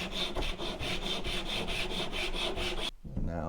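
A hand saw cuts about half an inch off a wooden snowman's hat in steady, rasping back-and-forth strokes, close and loud, ending abruptly near the finish.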